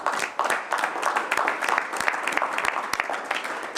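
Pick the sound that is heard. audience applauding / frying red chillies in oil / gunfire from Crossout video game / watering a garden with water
audience applauding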